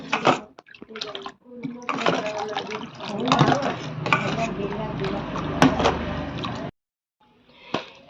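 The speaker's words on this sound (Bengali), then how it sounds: "এবার এতে আমি পরিমাণ মতো জল দিয়ে দেব" Water is poured into a mango sherbet in a kitchen, a continuous splashing fill of several seconds that stops abruptly, with a voice speaking around it.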